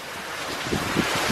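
Strong Hurricane Hermine wind roars outdoors as a loud, broad rushing noise buffeting the microphone, with a few low gusty thumps.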